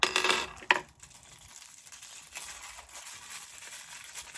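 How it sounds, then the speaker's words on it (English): Small metal keys from a Hermes bag lock set jangle and clink close up, a bright burst of metallic chinks at the start and another sharp jingle just after, then quieter faint rattling under a soft background hiss. "There's the keys, gorgeous little keys"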